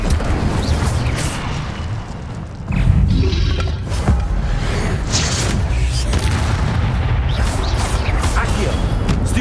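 A fire spell cast in Hogwarts Legacy, heard as a loud, booming magical burst with crackling impact that swells about a third of the way in, set over continuous combat effects and game music.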